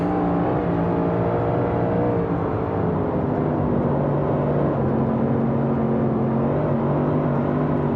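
Big block modified race car engine roaring on the Bristol dirt track in iRacing, a loud, continuous droning howl with shifting pitch that runs unbroken throughout, no voices.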